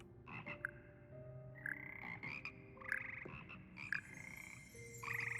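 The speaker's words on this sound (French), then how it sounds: "C'est ici que se perchent les grenouilles gluantes et mélodieuses qui forment le cœur des grenouilles de Poudlard." Frogs croak in a Hogwarts Legacy game scene, a chorus of overlapping, musical croaks and chirps rising and falling in short bursts, fairly close and clear with no talking.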